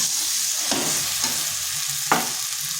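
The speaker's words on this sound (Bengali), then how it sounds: "এটা মশলার সাথে খুব ভালো করে কিন্তু কষাতে হবে।" Kohlrabi cooks with spices in a pan over medium-low heat, a steady sizzle running underneath while a spoon scrapes and stirs in a few distinct strokes, one sharper scrape near the end.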